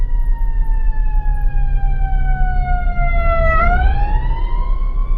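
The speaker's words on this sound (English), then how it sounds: "There go another ambulance." Ambulance siren passes close by with a loud sweeping wail, its pitch dropping as it goes by amid road rumble, heard from inside a box truck on the road.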